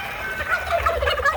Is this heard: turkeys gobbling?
yes